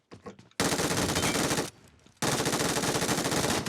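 Gunfire from an SKS rifle in the mobile game PUBG Mobile comes as two loud, dense bursts of rapid shots, close up and cut by a short quieter gap, after a few faint clicks at the start.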